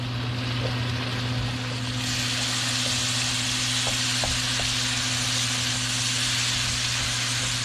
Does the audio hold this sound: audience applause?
no